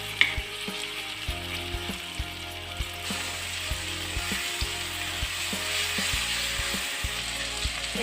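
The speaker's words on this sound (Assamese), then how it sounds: "অলপ সময় ভাজি ভালদৰে লৰাই লোৱাৰ পাছতহে" Spices fry in hot oil for a lemon pickle, giving a continuous close sizzle broken by regular scraping clicks of a spoon stirring the pan; no one speaks.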